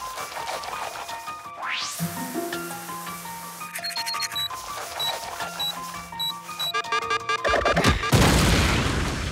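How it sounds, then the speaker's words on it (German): A busy run of cartoon sound effects: a rising whistle, clattering tones and bangs, building to a loud, crashing bathroom explosion near the end. "Warum ist das Bad explodiert?"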